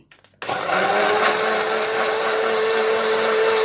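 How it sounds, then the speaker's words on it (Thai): A blender purees gac fruit pulp after a short quiet start, kicking in abruptly with a loud, steady motor whine that holds constant to the end. "ปั่นให้ละเอียดเลยนะคะเพื่อน"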